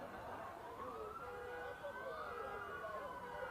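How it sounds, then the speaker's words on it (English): Police sirens wail in overlapping rising and falling tones, heard from a distance over steady background noise, in a Washington, DC neighborhood. "Those are the sirens of all the police cars around here."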